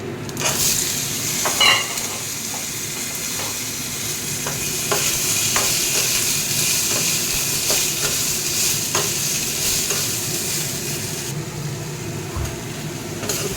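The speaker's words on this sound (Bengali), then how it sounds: "টমেটো, পেঁয়াজ, রসুন, কাঁচা লঙ্কা আর চিনেবাদাম দিয়ে ভাজছি" Tomato, onion, garlic, green chilli and peanuts fry in a pan for chutney, giving a steady close sizzle with occasional stirring scrapes and clicks, no voices.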